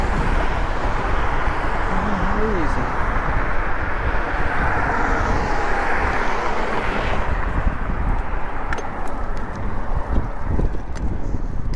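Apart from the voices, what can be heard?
loud cars at a stoplight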